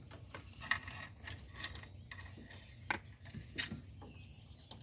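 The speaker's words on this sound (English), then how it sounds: "So let's remove the choke now." Ratchet wrench working on the choke of a Geo Tracker, giving faint intermittent clicks and metallic ticks spread over a few seconds in a quiet garage space.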